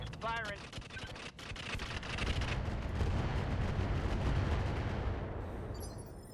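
Missiles firing in the RogueTech mech game, a dense rumbling barrage of launches and blasts that builds and holds loud for several seconds over a crackling low roar, with speech mixed underneath.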